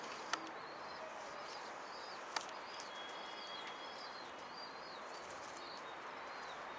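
A handful of small birds held in a basket, about to be caught and moved into a coop, give faint, scattered high chirps over a steady outdoor hiss, with a couple of sharp clicks.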